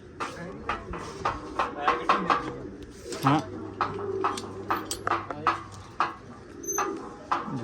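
Pigeons at a loft coo in soft repeated calls close by, mixed with frequent clattering and handling noises and occasional chirps.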